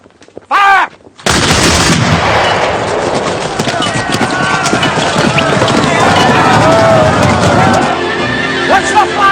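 A massed musket volley fires on command in a Napoleonic-era battle scene, one loud blast after a shouted order, then sustained roaring gunfire and battle din with galloping horses.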